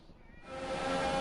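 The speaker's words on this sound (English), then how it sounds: "Go away, cat." A house cat meows close by, a single drawn-out call that swells in loudness and holds steady, heard alone without talk.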